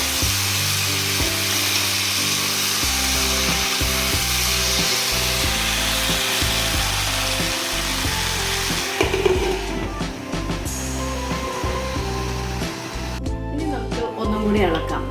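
Beef roast stirred in a pan, producing continuous rough scraping and rubbing of a spoon against the pan along with sizzling, loud and close, lasting the whole clip.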